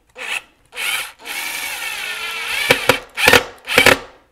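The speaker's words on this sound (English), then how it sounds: "did you hear it start to strip like that? It's actually, the Phillips bit is actually jumping around in there." A screw gun with a Phillips bit drives a screw into the back side of a wall, the bit stripping and jumping in the head, giving several short grinding bursts, then a longer whine and rapid chattering clicks, close and loud.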